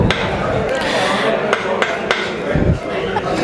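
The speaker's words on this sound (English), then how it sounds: "when the hammer is hit on the concrete block" A hammer strikes a concrete block repeatedly at an irregular pace, giving several sharp, close impacts over a steady background hum, with a heavier thud near the end.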